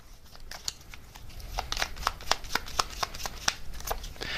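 Tarot message cards are shuffled close by in a quick, steady run of crisp riffling flicks that grows busier and louder through the middle, with no talking.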